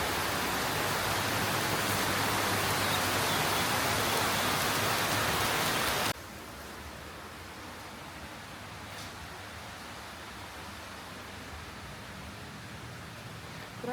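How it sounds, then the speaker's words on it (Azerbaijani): Rain falls as a steady, broad hiss, louder in the first part and then softer and more muffled for the rest. "Baxın necə yağış yağır."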